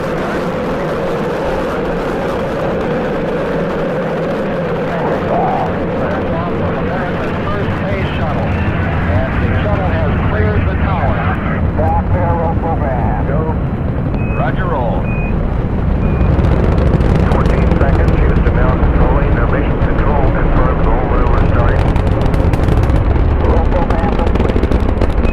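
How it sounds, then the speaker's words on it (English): Space Shuttle main engines and solid rocket boosters roar at launch on the first shuttle flight, a dense, continuous low rumble that swells and grows louder throughout, with crackling bursts and faint voices under it. "We've gone for main engine start."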